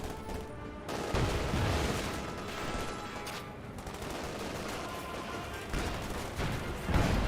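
Gunfire from Company of Heroes 2: a dense, continuous crackle of rifle and machine-gun shots mixed with heavier thumps, loud throughout with no pauses.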